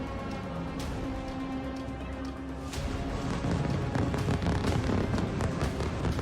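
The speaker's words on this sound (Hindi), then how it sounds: "बेरूत में चारों तरफ धमाकों की आवाज सुनाई दे रही है।" Explosions echo across Beirut during Israeli airstrikes on Lebanon, a rolling series of distant booms and sharp cracks that grow denser and louder toward the end, over a rumbling background.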